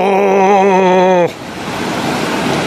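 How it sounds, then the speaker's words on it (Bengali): The fast-flowing Rangit river in Sikkim roars as a steady broadband rush of water, heard after a brief wavering tonal sound cuts off abruptly. "তবে জলগুলো কত স্পিডে বয়ে চলেছে দেখো, এইটারই আওয়াজ পাচ্ছিলাম।"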